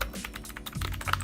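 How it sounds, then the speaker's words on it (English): Fingers type quickly on a budget mechanical keyboard costing under $30, a brisk close-up patter of clicky keystrokes with uneven rhythm and no voice. "I actually do like the typing on this keyboard more than I like these ones"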